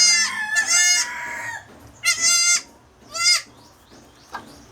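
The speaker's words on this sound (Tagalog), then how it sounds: "May bago na naman akong kambing." Several loud, nasal bleats from a goat, close by and in short bursts with brief pauses between, alongside rooster-like calls in a farmyard setting.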